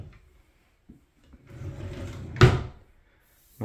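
A cabinet drawer in a tiny house kitchen slides open with a rolling rumble and closes with a solid wooden thud, close up, then another drawer knock begins.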